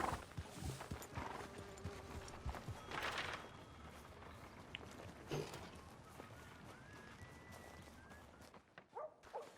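Horse hooves clip-clopping at a walking pace in Red Dead Redemption 2, a steady near stepping rhythm under ambient town noise, with a dog barking nearby.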